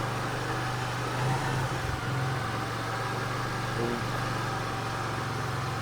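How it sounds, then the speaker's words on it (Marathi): A car engine that has just been started after sitting unused for six months idles with a steady low hum, alone and fairly quiet, with no talk. "सहा महिन्यांनी चालू केली, 6 महिन्यांनी पण गाडी चालू झाली."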